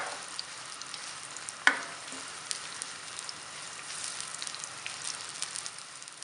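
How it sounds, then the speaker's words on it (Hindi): Chopped onions sizzle in hot oil in a pan while browning to light golden for achari aloo bharta, a steady soft hiss with one sharp clatter partway through. "प्याज को हमने लाइट गोल्डन ब्राउन कर लेना है।"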